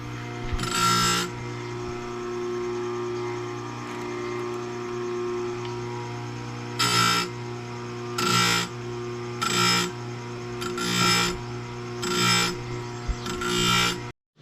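Steady motor hum runs throughout, broken by six short bursts of hissing, scraping grinding as a chainsaw chain is sharpened with a hand grinder.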